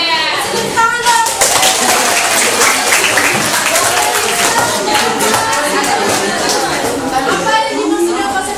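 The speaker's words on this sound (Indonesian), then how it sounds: "Tepuk tangan dong." Students clapping in a school classroom, a loud, close burst of many hands that runs the full length while chatter and voices mix in beneath the claps.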